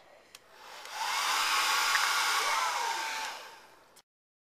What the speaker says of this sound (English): We're going to be taking the hairdryer and blowing it on the sand to show how wind can move the land.